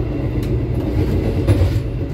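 The Sembrani passenger train, travelling from Semarang to Jakarta, rumbles with a loud, steady low roar inside the carriage, with faint rattles and a few soft clicks.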